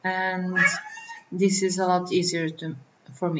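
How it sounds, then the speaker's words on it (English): A pet cat meows in a room while someone talks through a 3D modeling tutorial, with short whiny cries mixed in with and between his speech. "Sorry for my cat, I don't know what's up with him at all."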